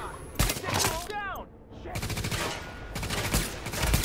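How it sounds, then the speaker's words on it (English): Sniper rifle shots in The Division video game crack sharply several times amid other loud gunfire bursts, close and punchy, with a brief lull in the middle. "Sniper rifle is amazing."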